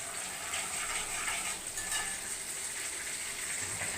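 A garlic clove and coriander fry in a pan with steady, soft sizzling and crackle that stays even and close throughout.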